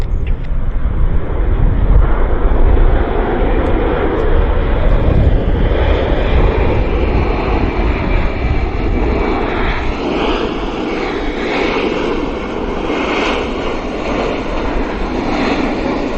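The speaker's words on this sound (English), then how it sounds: "Oh, that's a nice landing." A fixed-wing airliner lands at Vancouver airport with a loud, sustained engine roar and rushing rumble that slowly shifts in pitch as it passes, close and dominant with no talk over it.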